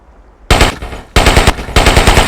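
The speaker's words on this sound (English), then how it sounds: "Press the Fire key to fire the machine gun." Fixed machine gun firing in a video game training range, loud close bursts of rapid automatic shots in three quick strings, with no voices.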